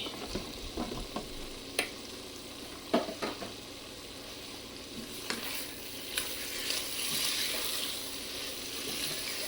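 Potato, chili and green capsicum stir-frying in a pan, a moderate sizzle with scattered spatula scrapes and taps early on, the hiss swelling a little toward the end.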